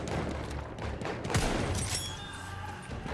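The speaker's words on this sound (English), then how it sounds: "Where are they shooting from?" Rapid rifle and weapon fire in the Battlefield 1 video game during a team deathmatch, dense overlapping shots and bursts, loud and continuous throughout.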